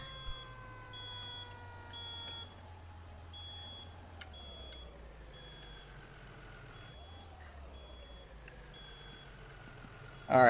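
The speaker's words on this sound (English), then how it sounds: "Last time I was up here on this automated alarm, this was a false alarm." An automated fire alarm beeping in a firefighting video game, a steady high electronic beep repeating at a regular pulse throughout over a low idling truck engine hum, fairly faint with no talk.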